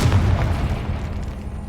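A fiery Confringo blast spell cast in Hogwarts Legacy lands as a deep, rumbling boom that rolls on for a moment and fades, loud and close with no voices over it.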